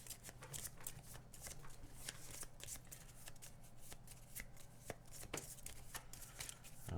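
A deck of cards for the board game Aeon's End shuffled by hand close up, a dense run of riffling flicks and soft slaps repeating without pause, fairly quiet.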